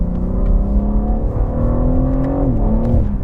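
A 2021 BMW M3 Competition with a 3-litre twin-turbo straight six accelerates, its engine note climbing steadily and loud from inside the cabin, then dipping briefly at a gear change before pulling again.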